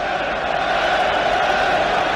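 A packed stadium crowd at a USA versus Wales World Cup match roars in a dense, sustained wall of cheering and shouting that holds loud and steady.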